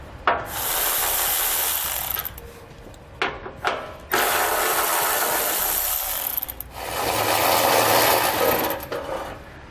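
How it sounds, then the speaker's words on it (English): A 10mm socket on a ratchet backing out exhaust shield bolts under a Ram truck, giving long stretches of steady, close clicking and grinding with brief pauses as the tool is repositioned. "I'm using a 10mm socket to pull those out."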